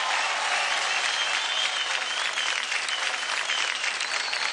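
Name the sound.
audience applause welcoming dancers on stage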